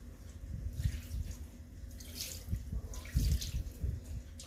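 Water is poured for Moroccan couscous, a soft close splashing and trickling stream with small gurgles, faint and continuous for a few seconds.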